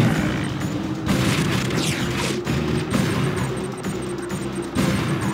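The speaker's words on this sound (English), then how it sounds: "We've got the rockets. Rockets ready. Hit them!" Rocket strikes in Command & Conquer 3 Kane's Wrath boom repeatedly over a dense, rumbling battle din, with loud blasts landing one after another across the stretch.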